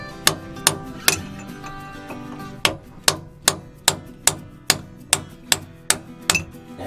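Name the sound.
hammer whacks seating boat shaft packing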